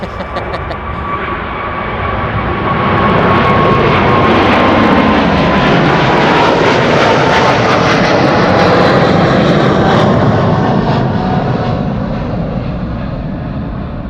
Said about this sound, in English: This is KLM flight 591. And that's 777-300.